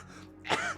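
A single short harsh cough or throat-clearing burst from a woman, close and sudden after a moment of near silence.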